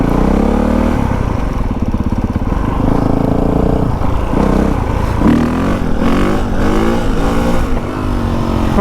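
A new dirt bike's engine revs loudly and continuously while being ridden, its pitch rising and falling with the throttle, and the note gets choppier in the last few seconds.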